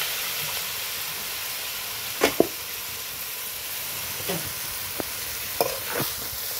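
Wheat-flour vegetable noodles fry in a pan with a steady, close sizzle, broken now and then by a few scraping stirs from a spatula.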